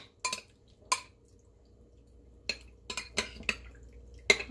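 Salmon is rinsed in a bowl with vinegar and salt, giving scattered light clinks and soft wet knocks against the dish, several separate bursts over a quiet background with no talking.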